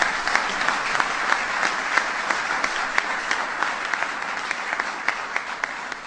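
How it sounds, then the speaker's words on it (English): A large audience at a swearing-in ceremony for governors applauds, a loud, sustained, even roar of clapping that carries steadily throughout. "Give him a big round of applause"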